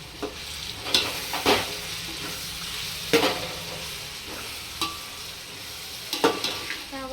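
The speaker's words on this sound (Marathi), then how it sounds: "सगळे परत एकदा हलवून घ्यायचं" Vegetables for a veg biryani are stirred in a pan, giving a steady soft sizzle broken by several sharp scrapes and clanks of the spoon against the metal, close and moderately loud with no talking.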